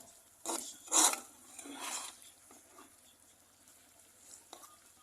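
Chicken roast is stirred and sautéed in a pan, with a few scraping, rasping strokes of a spoon over soft sizzling, close and fairly quiet, then fading to light frying noise.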